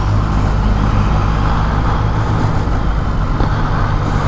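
A Yamaha XSR900 motorcycle rides in first gear at about 31 on a road in Manila, a loud, steady low engine drone with continuous wind and road rush throughout.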